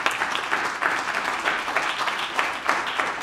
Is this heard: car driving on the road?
no